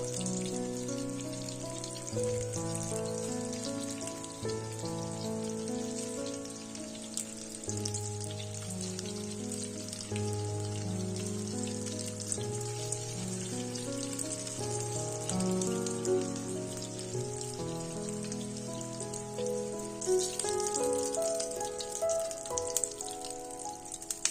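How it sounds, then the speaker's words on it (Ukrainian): Cabbage crackles and sizzles in hot oil throughout, a constant spitting hiss heard beneath gentle background music. "смажимо до золотавої скоринки, смажаться вони швидко"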